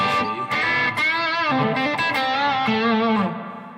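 An overdriven electric guitar rings out through a gritty, compressed amp model on a Poly Effects Ample, a few sustained notes and bends fading away at the end.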